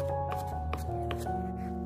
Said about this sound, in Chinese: 全部切好之后还可以改刀把它剁得稍微细一点